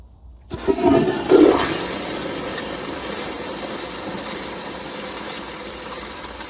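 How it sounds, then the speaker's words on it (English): A Kohler Primary kid's toilet flushes nearby: a sharp onset, a loud surging gush in the first couple of seconds, then a steady rushing wash of water that slowly tapers. "now I'm gonna do another flush like this"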